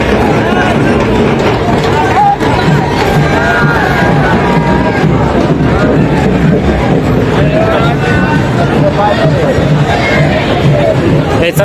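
A dense crowd fills the grounds of the Kanifnath temple fair at Madhi during Rangpanchami, making loud, unbroken babble and chatter with scattered shouts. The mass of voices stays steady from start to finish.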